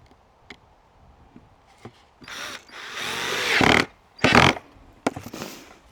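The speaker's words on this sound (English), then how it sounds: "just screwing this on the back" A power drill or driver runs in short bursts, screwing a sign onto the back of a wooden hedgehog house, with a few taps before and a brief pause between the louder whirring spurts.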